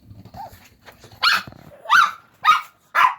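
Dogs barking on a boat, four sharp loud barks spaced about half a second apart after some soft whining and low noises, with no talk.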